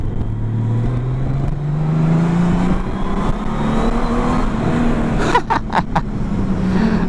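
A 2019 Honda Goldwing Tour DCT motorcycle engine revving and droning in a tunnel, a rising steady hum with a few quick throttle blips near the end, close and loud.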